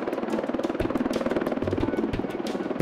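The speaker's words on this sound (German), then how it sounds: "In unwegsamem Gelände muss das Baumaterial mit dem Helikopter eingeflogen werden." A helicopter ferrying construction material over rough mountain terrain for a power line build, its rotor chopping in a fast steady pulse, fairly close and continuous for a few seconds.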